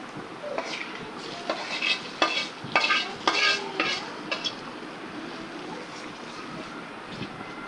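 Rui fish with potatoes sizzles in a pan, with a run of scraping stirs that peak midway and then fade into a steady soft sizzle, close by and with no talk.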